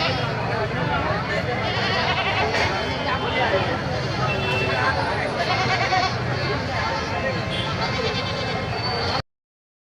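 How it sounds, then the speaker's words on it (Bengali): Dense, continuous bleating from many goats fills a crowded Eid ul-Adha livestock market in Saturia, Manikganj, with overlapping calls near and far amid a steady hubbub of people talking. "এখানে অসংখ্য ছাগল উঠেছে সাপুরের হাটে"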